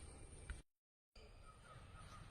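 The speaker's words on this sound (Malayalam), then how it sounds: "കാരണം നല്ല കിളികളുടെ സൗണ്ട് കേൾക്കാം." Crows caw among other birds in the natural forest around a Durga Devi temple in Kozhikode, a faint, steady outdoor chorus broken by a brief silent gap.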